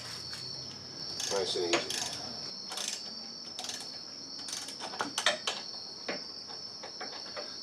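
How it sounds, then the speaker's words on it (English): A ratchet slowly turns a bolt into a truck wheel hub assembly on a 2000-2006 Chevy or GMC Suburban or Tahoe. Faint, sparse metallic clicks of the pawl come in short runs with a quiet background, and a brief spoken remark. "we're just going to slowly turn that ratchet and turn that top bolt in"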